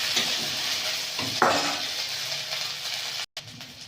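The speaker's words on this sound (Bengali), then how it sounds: "পেঁয়াজটা ভালো করে ভেজে নেব।" Chopped onions frying in mustard oil with panch phoron in a village kitchen pan, a steady close sizzle broken by scraping stirs and one sharp clatter of the spatula.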